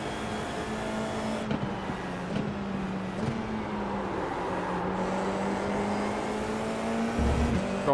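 Several race cars circling the Portimao track in iRacing, a steady droning engine roar with shifting pitch as cars run side by side, close and continuous with no talk.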